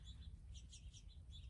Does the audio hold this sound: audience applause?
no